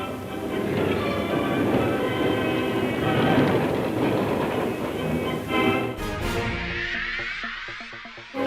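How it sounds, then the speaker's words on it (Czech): New electric trams run through Ostrava with a loud, steady rumble and rolling wheel noise, fading toward the end as a tone sweeps in. "Rychlé a pohodlné tramvaje umožní lepší dopravu ostravských občanů za prací i zábavou."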